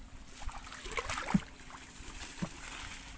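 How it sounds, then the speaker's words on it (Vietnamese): Small wooden boat paddled on rural river water, soft irregular splashes and gurgles with a couple of knocking strokes, quiet and close. "Bây giờ mình sẽ chèo ghe vô cho mọi người coi nha"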